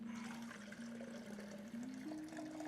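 Water pours steadily into a glass of iced coffee, a continuous close liquid rush with a rising fill tone, alone without talk.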